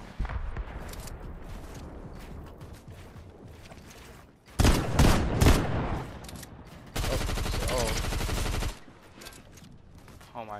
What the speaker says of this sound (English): Pull out shotgun, pull out shotgun.